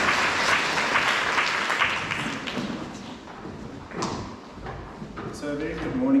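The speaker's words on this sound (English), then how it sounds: "Let's give them another round of applause." Applause from a school assembly audience fades gradually, giving way to scattered thumps, a few claps and someone starting to speak near the end.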